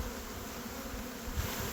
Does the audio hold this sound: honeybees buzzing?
yes